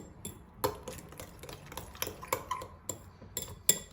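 Eggs being whisked with cheese in a bowl, a utensil tapping and clinking against the sides in quick irregular strokes, close and fairly quiet.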